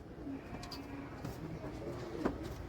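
Pigeons at a loft, soft low cooing against a steady outdoor background hum, with faint voices and a sharp click near the end.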